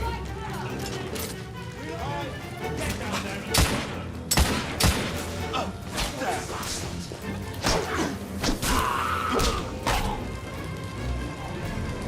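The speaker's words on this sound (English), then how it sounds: "I'm taking suppressive fire!" Gunfire in The Order: 1886 crackles in rapid volleys with heavy thuds and impacts, mixed with game effects, while voices talk over the shooting.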